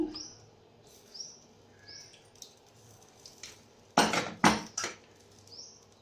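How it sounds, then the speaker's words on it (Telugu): Spoon clinks and scrapes against a plate as Bombay chutney is spooned onto a breakfast tiffin, in a short cluster of close, sharp sounds. Bird chirps repeat softly in the background, and no one speaks. "ఇప్పుడు మనము దీని మీద బొంబాయి చట్నీ వేసుకుంటున్నాము"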